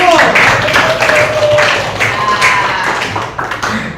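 Classmates applaud a student group after its presentation, a dense patter of clapping that carries on for about four seconds with voices mixed in.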